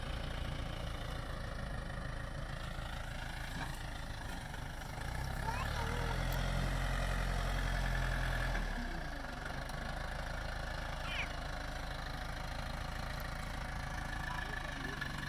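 A farm tractor idles on a farm during a steer butchering by a mobile butcher, pushing entrails into a hole: a faint, low, steady rumble that swells briefly midway, with background talk.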